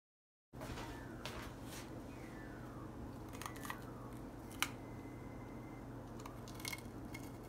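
A knife cutting around the inside core of a bell pepper for stuffed peppers, faint intermittent crunchy snips and scrapes close by over a steady background hum.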